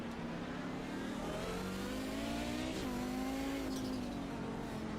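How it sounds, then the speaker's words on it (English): Race car engine heard from on board in an iRacing sim-racing game at the Long Beach street circuit, a continuous loud drone whose pitch climbs steadily, dips briefly at a gear change, then keeps rising. "Let's ride on board and listen."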